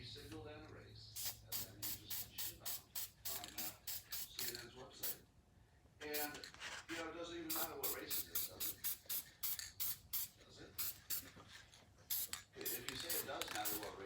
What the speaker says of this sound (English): We're going to put a little paint on it now and let it dry.